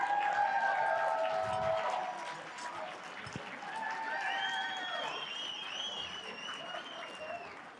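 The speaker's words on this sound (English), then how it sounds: "Give him a round of applause." An audience at a college scholarship gala auction claps loudly, the applause swelling and then fading slightly, with voices and cheers mixed in.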